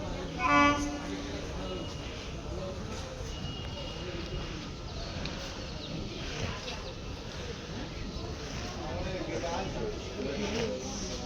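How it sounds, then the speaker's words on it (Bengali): Local train from the Barasat shed changing tracks at a station: a steady rumbling roll of wheels over rails throughout, with a short horn-like tone near the start and people talking nearby. "বাট এই ট্রেন ট্র্যাক চেঞ্জ করবে।"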